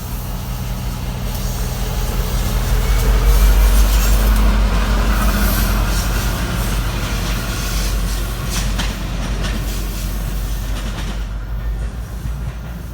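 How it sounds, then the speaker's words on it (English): A CSX geometry inspection train rumbles past steadily with low heavy rolling noise and faint wheel clatter, loud and close, fading slightly toward the end. "I ran into the CSX Geometry Inspection Train W003."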